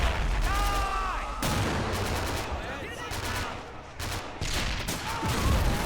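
Mortar and gunfire from a Pacific war video game mod depicting the Tarawa amphibious assault: dense, continuous rattling fire with heavy booms, loud and close, with someone speaking over parts of it.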